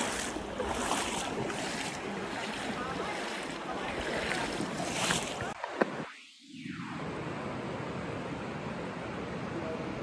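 Water sloshes and rushes steadily around legs while wading through it on a hike, a loud continuous splashing wash that briefly drops out in the middle before returning.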